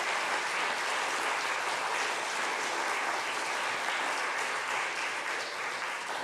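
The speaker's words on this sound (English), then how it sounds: "can we just have a huge round of applause for our stewardship team?" Church congregation applauding the stewardship team at an Easter service, a dense, sustained wash of many hands clapping at a steady level with no pauses.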